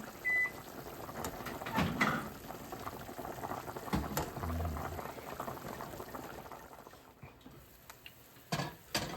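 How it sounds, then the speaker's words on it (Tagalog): Chicken tinola broth boiling in a pot, a steady bubbling and liquid churning throughout with a few louder pops and clinks near the end, no voices. "nakakulo na uli"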